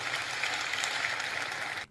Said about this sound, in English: note the applause